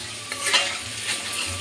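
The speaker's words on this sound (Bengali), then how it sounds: "পনিরের তরকারি রান্না করার জন্য আলুগুলো আগে ভেজে নিলাম।" Potato pieces sizzle in hot oil in a pan while being stirred, with a steady close frying hiss broken by the scrape of a spatula.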